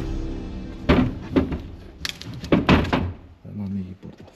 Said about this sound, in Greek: Δεν ανοίγει η πόρτα.